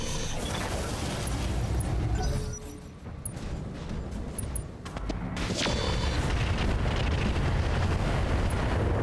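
Battle mechs fire their weapons at a target in BattleTech with the RogueTech mod, giving off loud, heavy blasts and rumbling booms over a mechanical din, with a brief lull midway before the barrage resumes.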